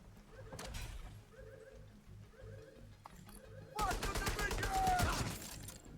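Gunfire in The Division 2: scattered shots early on, then a dense burst of rapid automatic fire in the second half, fairly close and loud over game sounds.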